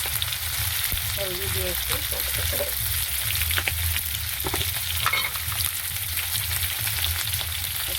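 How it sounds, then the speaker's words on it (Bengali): Prawns fry in a hot pan with turmeric, a steady close sizzle with scraping stirs, while a voice speaks briefly over it. "চিংড়ি মাছটা একটু ভেজে নেব।"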